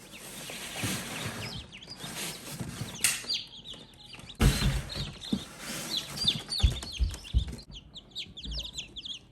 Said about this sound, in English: Little basket of chickies.